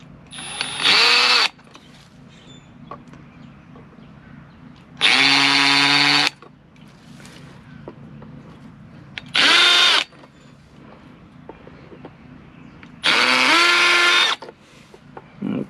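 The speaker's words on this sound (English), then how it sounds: "Then you're going to get your drill and you're just going to make the marks." An electric drill marks a wall during a wall-mounted hose reel installation, running in four short, loud whirring bursts separated by quiet pauses.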